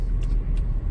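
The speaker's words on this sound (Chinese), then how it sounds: "它这个水平对置特有的声音。" Low, steady rumble of a Subaru Forester's horizontally opposed boxer engine in congested traffic, heard from inside the car with a couple of faint higher ticks over the drone.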